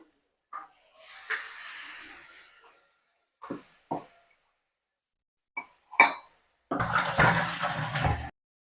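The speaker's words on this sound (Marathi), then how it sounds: "आता त्याच्यात आपण पाणी टाकू" Water splashed into a hot pan while cooking besan with fresh pigeon peas, giving a few short clatters and then a loud, broad hissing sizzle lasting about two seconds near the end, with no talking.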